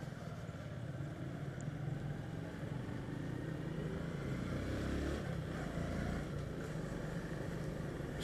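A motorcycle rides through a town square in Barra do Corda, its engine a steady low rumbling drone heard from the rider's position, moderately loud with faint surrounding traffic.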